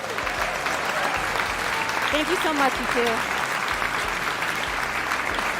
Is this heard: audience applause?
yes